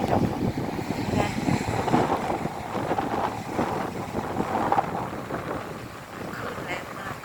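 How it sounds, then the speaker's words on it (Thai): Rough sea waves roll in during a storm at the shore, a constant loud rumbling wash mixed with wind buffeting the microphone, while someone talks over it. "คลื่นแรงมาก"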